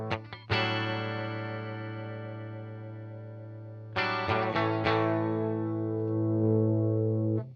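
An Albion TCT-35C guitar amplifier rings out sustained electric guitar chords with its edge control adjusted, a long ringing chord followed by a fresh strum and a few picked notes, clear and unaccompanied.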